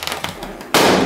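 A single loud, sharp balloon burst lands near the end, at a Christmas special TV show, following a brief stretch of quieter background noise.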